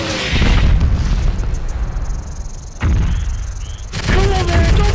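Mortar explosions crash down in a World War II Pacific combat video game, loud booming bursts with a heavy blast near the start and further impacts around three and four seconds, one low rumble rolling into the next.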